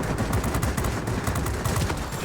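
Aircraft machine guns in World of Warplanes fire in a rapid, continuous burst, a dense rattling stream of shots close and loud with no pauses or talking.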